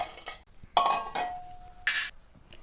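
Fried paneer tipped into a paneer biryani pot after the pressure is released, giving a few loud metallic clinks and scrapes of a spoon against the vessel with a short ringing tone, close by.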